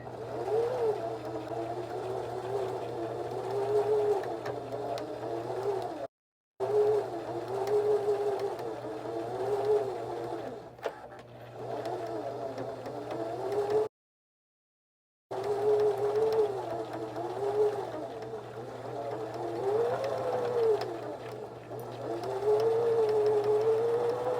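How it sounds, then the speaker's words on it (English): A sewing machine runs continuously, stitching around a fabric candy corn stuffie. It gives a steady close whirring hum that wavers slightly and stops briefly twice. "now we're just going to sew all the way around"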